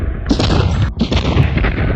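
A loud, close burst of gunfire fills the moment, a dense rattling roar with a brief break near the middle before it resumes, heard alone without talk.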